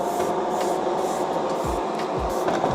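An airbrush sprays a light coat of matte finisher onto customized Nike Air Jordan 1 sneakers, giving a steady, continuous close hiss with faint low thumps.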